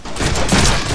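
Gunfire in the Deadpool video game, a dense burst of rapid shots packed together into one continuous loud rattle that lasts about a second.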